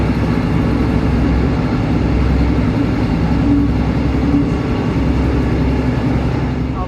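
A train running through Dawlish station on a snowy December day, a loud, steady rumble of wheels and engine close by that holds at an even level throughout.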